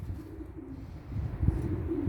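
Low, soft coos of young pigeons over a muffled background rumble, a few gentle throaty calls rising near the end, fairly close.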